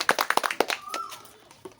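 Children clap their hands during a party game, a quick burst of about eight sharp, close claps that stops within a second, followed by a brief high squeak and fading room noise.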